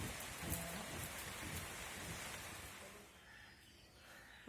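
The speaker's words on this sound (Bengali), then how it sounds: "কি জোরে বৃষ্টি নামলো আবার।" Heavy rain pours in a steady, hissing downpour, heard fairly faint from indoors and easing slightly toward the end.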